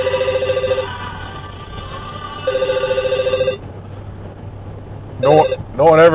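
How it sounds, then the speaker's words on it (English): Telephone ringing in bursts inside a car passing through the Chesapeake Bay Bridge-Tunnel: two long electronic rings separated by road rumble, followed by shorter warbling ringtone chirps near the end, loud and close over steady engine and tunnel noise. "All of a sudden I get 2 phone calls"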